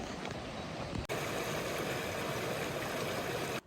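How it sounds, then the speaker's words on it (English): A waterfall along the Annapurna Base Camp trek gives off a steady, dense rush of falling water. The roar stays constant and fairly loud, with a brief cut near the start, and no voices are heard. "Pretty nice views when you come across these fabulous waterfalls."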